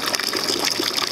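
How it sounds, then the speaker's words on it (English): Water gushing steadily into a mash tun while brewing all-grain beer outdoors, a close, continuous splashing pour with a bright hiss and no pauses. "The mash tun, filling it with water slowly."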